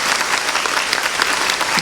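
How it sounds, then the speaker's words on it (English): A commencement audience applauds the Bennett College Choir, a brief, steady burst of dense clapping from a large crowd. "Give them another round of applause."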